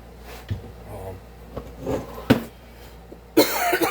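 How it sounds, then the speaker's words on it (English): A few sharp coughs spaced out over low background rumble, ending in a louder, harsher bout of hacking, close to the listener. "You're gonna hear me coughing and hacking."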